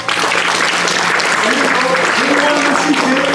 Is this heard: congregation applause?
yes